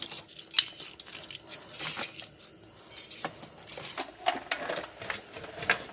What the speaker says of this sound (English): Yeah, same brake pad, so we can throw these to the garbage pile